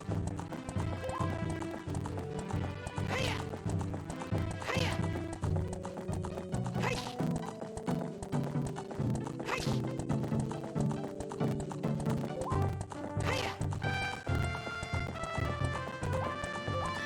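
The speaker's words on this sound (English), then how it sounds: "Watching Link ride his horse through Hyrule Field?" Rhythmic hoofbeats of a galloping horse carrying Link across Hyrule Field in Zelda: Ocarina of Time 3D, steady and continuous over game music, with occasional whinnies.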